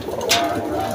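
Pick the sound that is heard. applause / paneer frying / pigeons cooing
pigeons cooing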